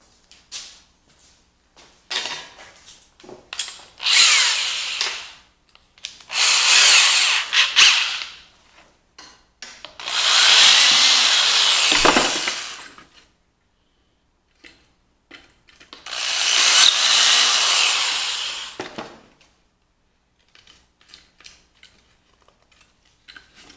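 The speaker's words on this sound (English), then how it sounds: "So I'm going to drill all these up" A power drill whirs in four separate bursts of a few seconds each, with quiet gaps and small clicks and handling noises between runs.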